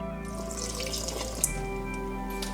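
Water runs into the pan of a bread machine being loaded for pizza dough, a short, close trickle over a steady low background hum, with no voices.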